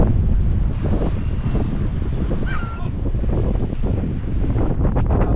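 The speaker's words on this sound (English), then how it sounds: "wind is really strong along the waterfront." Strong wind blows along the Liverpool waterfront, buffeting the microphone with loud, gusty roaring that rises and falls, with faint distant sounds under the blustery rush.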